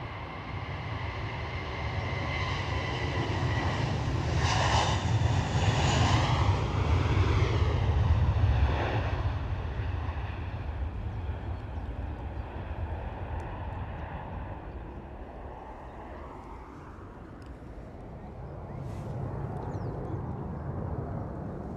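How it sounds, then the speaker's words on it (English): A British Airways airliner at Edinburgh Airport gives a long, broad engine roar that swells to a peak, slowly fades, then rises again, heard from a distance. "British Airways next to go."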